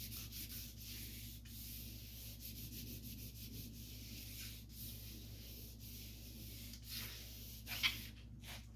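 Sandpaper rubbing steadily over the basecoat on the roof of a 1956 Fargo panel truck, a continuous close, faint scratchy hiss with a brief sharper scrape near the end, no talk.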